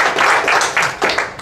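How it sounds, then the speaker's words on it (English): Applause from a club audience after a presentation, brisk many-handed clapping swelling and dipping in short waves for just over a second, alone. "Another round of applause for that."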